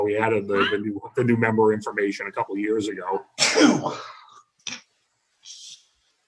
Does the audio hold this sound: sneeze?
yes